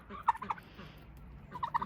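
A turkey gobbles in two quick bursts, a short pause between them, fairly close and moderately loud against a quiet background.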